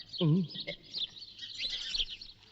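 A parrot chirps in short, high squeaky calls scattered across a couple of seconds, fairly faint and close, amid light background noise.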